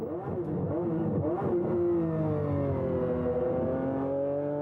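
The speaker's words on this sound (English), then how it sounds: "It's a BMW V12, and it's as smooth as silk." A McLaren F1 GTR's 6-liter BMW V12 revs on a racetrack, its smooth rising and falling engine tones sweeping up and then easing into a sustained, gradually dropping drone, loud and close with no talk.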